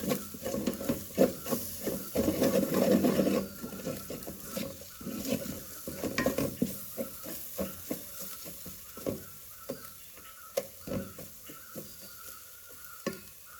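Ingredients for yellow rice, chilli powder among them, being stirred and mixed in a pan, with soft sizzling under a series of scraping and tapping spoon strokes, close and moderately quiet.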